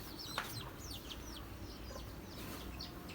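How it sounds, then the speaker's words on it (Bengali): Chickens cluck and chirp faintly in short scattered calls over a steady broad background hiss, somewhat distant. "মুরগিগুলো দেখেন"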